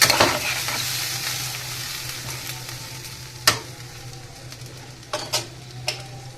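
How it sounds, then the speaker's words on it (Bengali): Tomatoes and potatoes being stirred in a frying pan, a steady sizzle over a low hum, punctuated by a few distinct scraping clacks of the utensil against the pan, close and with no talking. "এবার একটু নাড়াচাড়া করে মতো জল দিয়ে দেবো একটু সেদ্ধ হতেই হবে টমেটোটাকে"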